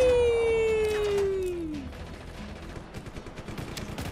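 A rapid burst of gunfire crackles steadily after a falling synthetic tone, the shots dense and continuous like game weapon effects.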